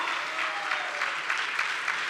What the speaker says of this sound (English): can we have a huge round of applause for Anita and Clement Fu?